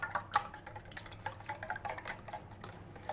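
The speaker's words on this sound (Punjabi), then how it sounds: "ਹੁਣ ਆਪਾਂ ਇਹਨੂੰ ਮਿਕਸ ਕਰ ਦੇਣਾ ਸਾਰੀਆਂ ਚੀਜ਼ਾਂ ਨੂੰ" Omelette ingredients being stirred together in a bowl, a soft, quiet scraping and clicking of a utensil against the sides in an irregular rhythm, with no voice.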